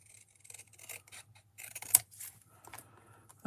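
Scissors snip through paper in a series of close, short crisp cuts with small pauses between them.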